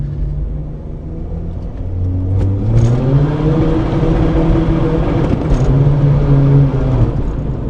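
A VW Polo with a hybrid turbo, tuned from 90 to 200 HP, accelerates hard, its engine rising in a loud, close rumbling drone as revs climb through the gear, with brief sharper bursts along the way.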